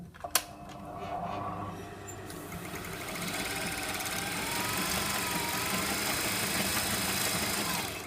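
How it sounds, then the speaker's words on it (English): An industrial sewing machine winds its bobbin: a click starts it, then a close, steady motor whir builds and holds at an even pitch to the end. "turn the machine on and press the pedal to wind the bobbin"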